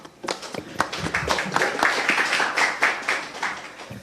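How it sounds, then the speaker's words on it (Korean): An audience at a seminar on the Serious Accidents Punishment Act gives hearty applause to welcome a union secretary-general to the stage, a burst of many hands clapping steadily for several seconds. "힘찬 박수로 육길수 사무총장을 모시겠습니다"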